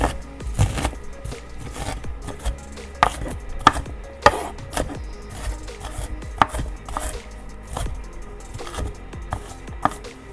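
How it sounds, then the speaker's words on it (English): Rough chopping of vegetables for a beef crockpot stew, a steady run of close knife strikes on a cutting board with irregular rhythm and a few louder chops, no talking. "We're just going to do a rough chop."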